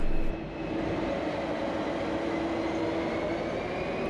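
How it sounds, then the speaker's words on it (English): A V/Line N class diesel locomotive train in Melbourne, heard as a steady, continuous rumble with a sustained drone and tonal hum, fairly loud and close, with no talking. "The N class is currently the only diesel locomotive frequently used on VLine's revenue services."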